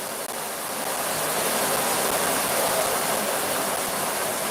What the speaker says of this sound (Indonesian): Nampaknya hujannya cukup deras, air pancuran